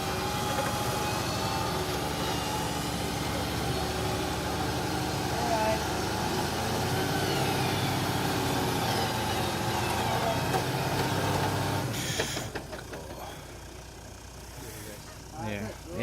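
A car engine labours under a heavy load while towing a trailer on a Cape York mountain-bike trip. It drones steadily and loudly for about twelve seconds, then drops away, and voices can be heard throughout.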